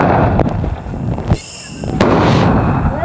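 A Zero Hero single-shot Sivakasi firework rocket bursts overhead with a sharp crack, followed by crackling and a second loud pop, the noisy rumble of the outdoor setting running throughout.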